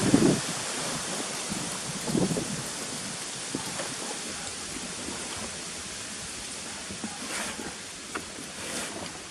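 Liquid ballast fluid, about four or five gallons, drains from a Case 430 tractor's 14.9 x 28 R1 rear tire, a steady splashing wash close by, with a louder gush near the start and no talk.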